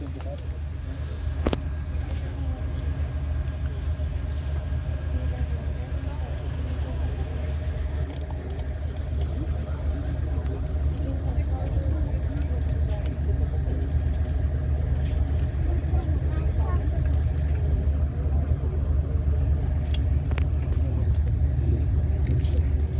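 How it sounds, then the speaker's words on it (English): A German WW2 Hanomag half-track drives at a battle reenactment, its engine rumbling low and steady throughout, with someone talking over it. "one is known as a Hanamag. That was the German half-track."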